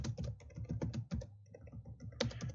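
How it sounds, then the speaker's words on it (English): Close, brisk typing on a computer keyboard, a quick cluster of key taps with a brief lull before a final flurry. "I'll just type in XSS."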